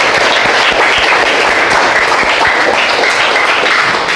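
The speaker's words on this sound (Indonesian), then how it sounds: "Mari kita tepuk tangan ya." Dense, steady applause from a school audience after a talk, filling the space loudly for a few seconds with no voices over it.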